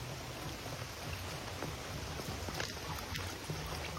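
Steady rain falls outdoors in a village, a soft, continuous patter with faint scattered drops, even and unbroken throughout.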